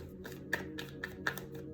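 Tarot cards being shuffled and pulled from the deck give off soft, papery slaps and flicks at a quiet level, with a few sharper snaps over a low steady hum.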